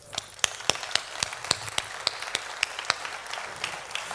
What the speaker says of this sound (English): So the first applause is just for you and for us that are again here in presence.